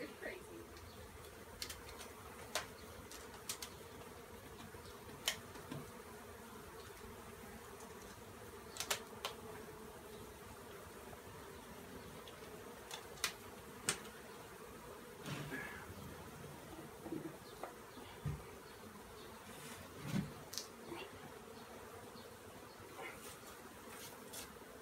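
Honey bees swarming inside a shed hum in a faint, steady drone throughout, broken by scattered light clicks and knocks nearby.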